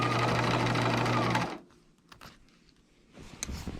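A sewing machine runs fast and loud as it stitches a dress, then stops abruptly with the needle left down, followed by quiet handling and fabric rustles.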